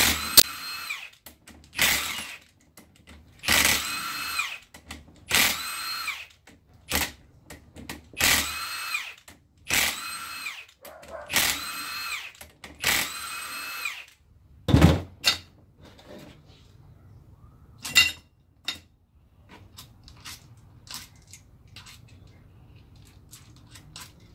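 A power tool spins out left-hand thread bolts on a Honda transmission, giving a string of short, sharp bursts of buzzing at close range, followed by scattered clinks and clatter of parts.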